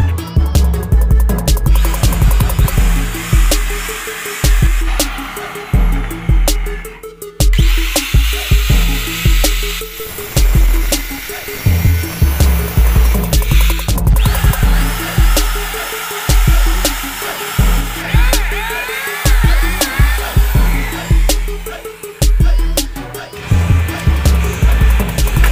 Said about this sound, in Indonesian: Yuk, mari kita bor.